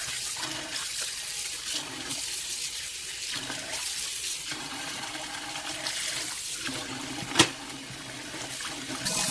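Tap water runs steadily into a sink while raw chicken is rinsed, a broad continuous splash with one brief louder knock partway through.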